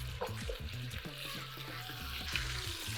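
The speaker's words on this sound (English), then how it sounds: "Turn these every once in a while and just cook them till they get some color" Chicken pieces frying in an Instant Pot, a steady close sizzle and crackle with occasional scraping stir sounds from turning the meat.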